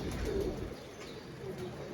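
Soft, low cooing of Ferozpuri pigeons murmurs faintly beneath a steady background hiss.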